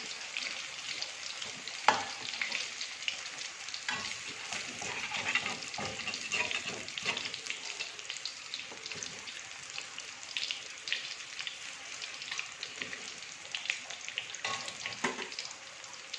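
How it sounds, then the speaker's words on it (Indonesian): Tempeh fries in hot oil with a steady crackling sizzle and scattered sharper pops, close up and continuous, with no voices. "Kita goreng sampai kecoklatan ya."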